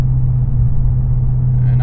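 A Ford Mustang with a replacement exhaust coasts uphill on a road with the foot fully off the gas, giving a steady, loud low rumble and droning hum heard from inside the car.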